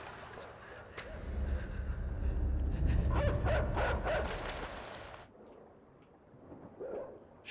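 Dog barking from the video game Inside, a loud, busy stretch of rough game noise for about five seconds that then drops to a quieter ambient tail.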